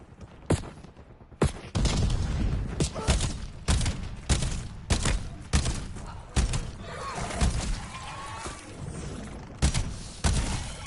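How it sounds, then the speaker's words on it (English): An enemy grenade blast in a video game shooter, one sharp explosive thump among a busy run of gunfire bursts and impacts, loud and close, with battle noise continuing throughout. "Enemy grenade."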